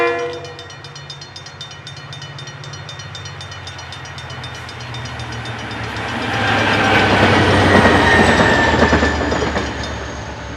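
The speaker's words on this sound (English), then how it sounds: "I got to see DXC's 5264 and 5391 hauling the train a couple of days later." DXC diesel locomotives 5264 and 5391 haul a train, a horn sounding early then a loud rolling rumble with clattering wheels swelling as it passes close by.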